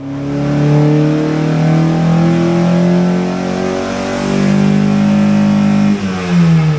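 A Honda Fit with a swapped K24 engine revs hard and climbs through the range with VTEC engaging, a loud, close, rising engine note that holds and surges, with no talking.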